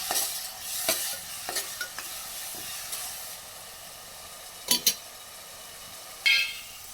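Ground garlic, onion and ginger paste sauté in hot oil, a soft sizzle under intermittent sharp scrapes and clinks of a spoon stirring the pan, with a few louder bursts near the end.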